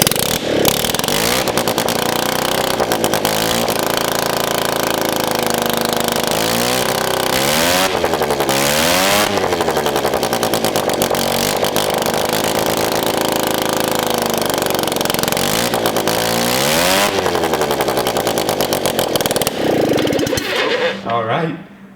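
A rotary-engine ATV with a poorly tuned carburetor runs and drives, its loud, raspy, continuous engine note rising and falling with throttle blips and revs, close to the listener, with voices over it.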